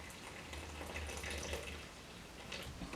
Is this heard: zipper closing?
no